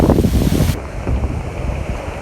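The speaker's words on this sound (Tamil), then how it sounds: "காற்றும் வேறு பயங்கரமாக அடிக்குது" Strong wind roars across the microphone in a loud, steady low rumble, with a hint of surf or open water underneath.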